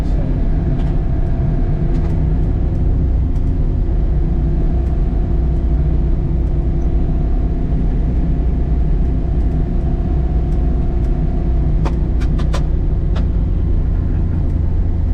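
A 2026 Can-Am Defender HD11 UTV fitted with 32-inch tires drives along a gravel road, giving a loud, steady engine drone and road rumble with a few sharp ticks of thrown stones near the end.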